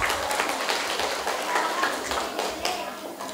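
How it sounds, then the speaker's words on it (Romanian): Crowd applause at a school award ceremony honouring students in Udești, steady dense clapping sustained throughout with a faint voice underneath. "Aplaudați-vă!"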